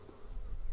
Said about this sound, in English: I'm excited about this hive of bees